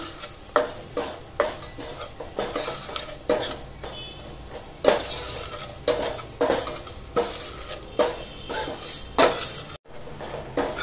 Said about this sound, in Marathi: 1 चमचा गरम मसाला. तो पण ना तेलावर असा परतून घेऊया.